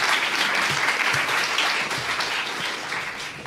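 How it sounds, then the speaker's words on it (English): An audience at a lecture on capitalism applauding a speaker, with dense, loud, continuous clapping from many hands filling the room. "So may I have a big applause for Giacomo."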